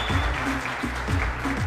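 An audience at a stage event bursts into sustained applause, steady and dense, with a rhythmic low thumping running beneath the clapping.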